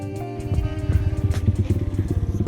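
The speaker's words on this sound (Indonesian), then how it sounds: "Di belakang ada motor." A motorcycle on a hill trail idles and putters close by, its engine loud with a rough, pulsing rhythm.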